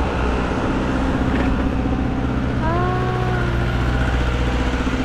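A car passes along a rural road through a Sri Lankan tea plantation, a steady low engine rumble held up close, with a few faint tonal whines drifting in midway and no voices.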